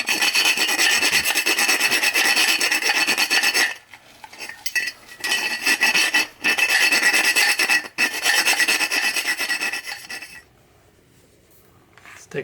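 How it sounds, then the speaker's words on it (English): A rat tail file rasping inside drilled holes in a steel jack stand, loud close scraping strokes in long bursts separated by brief pauses, ending in near silence. "I'm going to use a rat tail file to deburr the insides of the holes."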